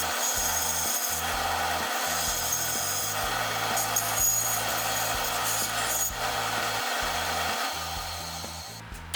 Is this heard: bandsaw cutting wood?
yes